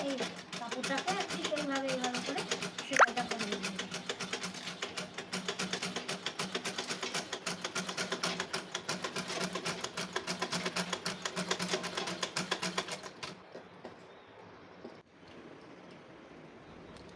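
A foot-operated treadle sewing machine runs steadily with a dense rapid mechanical clatter for about thirteen seconds, then stops, leaving faint room noise; a voice talks over the machine.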